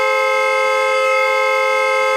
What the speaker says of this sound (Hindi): नॉन स्टॉप हॉर्न बजा रहा है